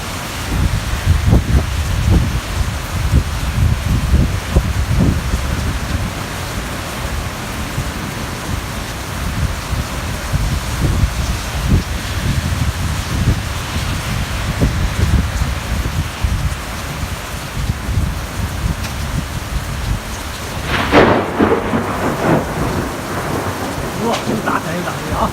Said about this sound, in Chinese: 打伞又打雷啊！